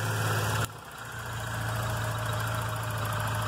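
A VW Golf Mk3 engine idles steadily with a low, even hum and a faint high whine; a brief click near the start, then the idle settles back.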